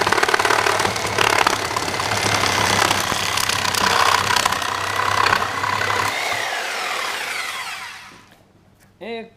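A Porter Cable Sawzall reciprocating saw with a demolition blade cuts through rough, nasty wood, giving a loud, continuous buzzing rattle. It winds down near the end, leaving a short burst of quieter sound.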